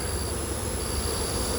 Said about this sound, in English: I'm going to shake all the bees in this tote